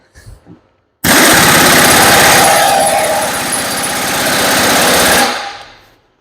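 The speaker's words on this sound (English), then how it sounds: "Inch and a half socket, 3/4 drive impact, and we hammer it." A loud 3/4-inch drive impact wrench with a 1.5-inch socket hammers in a fast continuous rattle for about four seconds on a Bobcat lift cylinder, close by, then winds down; brief faint noises come before it.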